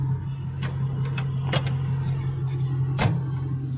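A dump trailer bed lowers under a steady motor hum, with a few sharp clicks and knocks scattered over the few seconds of continuous drone.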